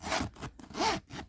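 A stiff zipper on a new Coach tote bag is pulled shut in two or three short, effortful rasping strokes, close and quiet, with brief pauses between pulls.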